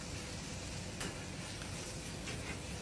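Tomato masala sautéing in a pan for tomato rice, a faint steady sizzle with soft crackles and an occasional light stir, no one speaking.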